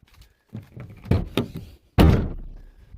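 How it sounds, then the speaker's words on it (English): A car door is shut firmly outdoors, with a few lighter thunks and handling noises before one loud solid slam near the microphone. "Close that door a little bit better"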